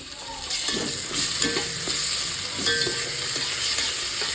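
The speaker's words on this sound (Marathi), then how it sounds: "याच्यामध्ये हळद मीठ टाकून आणि वाटलेला मसाला टाकून चांगलं मी परतलेला आहे" Ground masala paste with turmeric and salt sautéing in a pan, stirred steadily with soft scraping strokes over a constant close sizzle; no one speaks.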